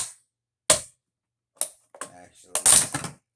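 Sharp metallic taps from a small hammer on a projector TV, a few isolated strikes followed by a quick cluster, close by, with a brief spoken word in between.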